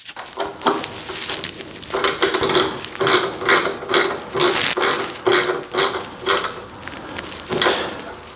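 Ratchet tightening bolts on the aero gills of an Ultima RS kit car, bursts of close, crisp pawl clicking in repeated strokes with short pauses between them.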